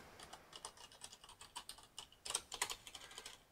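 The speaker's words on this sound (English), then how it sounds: "type in the name of the contact" Fingers type a contact's name on a computer keyboard, a quick run of light, close key clicks with irregular rhythm and a slightly louder burst of strokes near the end.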